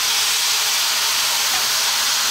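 Cold water hitting hot stir-fry vegetables in a pan, producing a loud, continuous hiss of steam and sizzle with no pauses.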